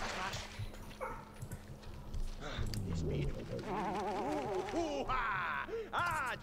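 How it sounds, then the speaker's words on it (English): Dog noises from The Sims 2 game as the dog chases the cat: short yips and whimpering barks over busy game music and effects, fairly close and clear in the second half. "the dog's playing chasey with the cat"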